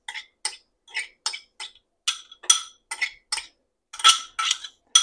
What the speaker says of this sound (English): We're just going to sort of chop this all up together and get it mixed up good.